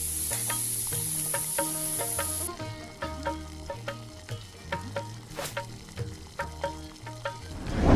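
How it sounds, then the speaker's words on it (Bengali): Crushed ginger frying in oil tempered with chillies and five-spice, a steady close sizzle broken by rhythmic stirring strokes and light scrapes against the pan. "দুই টেবিল চামচ পিষানো আদা যোগ করুন এবং 2 মিনিটের জন্য ভাজুন।"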